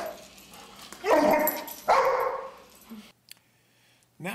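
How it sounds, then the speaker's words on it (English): A pet dog lets out two loud, sharp barks close by, each followed by a brief yelp-like tail. A short quiet pause comes next, then a final whimpering bark at the end. "Let's see what my daughter's dog Ryder thinks of moles."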